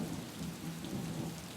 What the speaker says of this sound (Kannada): ಸತತವಾಗಿ 4 ದಿನಗಳಿಂದ 2-3 ದಿನಗಳಿಂದ ಮಳೆ ಸುರಿತಾನೆ ಇದೆ